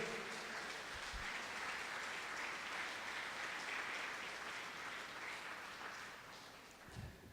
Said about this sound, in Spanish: Denle fuerte el aplauso a Dios.